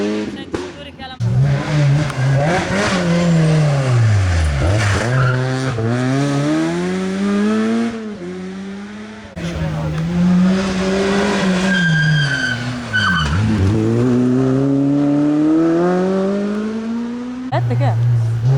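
A rally car on the Gombitelli stage of the 2009 Rally del Carnevale revs hard and close, its engine pitch sweeping up and down repeatedly through gear changes, loud and nearly continuous with brief dips between pulls.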